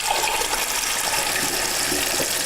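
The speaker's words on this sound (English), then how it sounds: "So that's water coming straight from the water inlet, outside water inlet, and not from the freshwater tank." Tap water running into a camper van sink, fed straight from the outside hose inlet rather than the freshwater tank; a steady, continuous rushing splash, close and fairly loud, with no talk.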